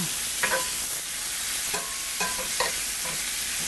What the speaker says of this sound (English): I'm going to add about a tablespoon of butter to that pan